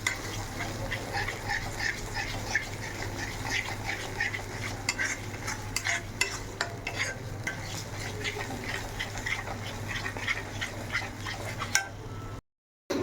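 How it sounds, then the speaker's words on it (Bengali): Spice masala frying in a pan gives a steady soft sizzle with light scraping stirs throughout, fairly quiet and close, then a brief dropout near the end. "মশলাটা আমার ভাজা হয়ে গেছে"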